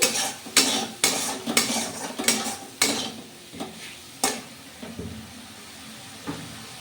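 Spice paste with a little sugar fried in a pan for a pointed gourd curry, a utensil scraping and clattering in bursts of stirring over a faint, low sizzle that fades toward the end.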